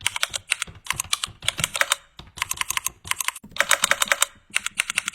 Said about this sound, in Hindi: अब आपका नॉर्मल कीबोर्ड बन जाएगा एक मैकेनिकल कीबोर्ड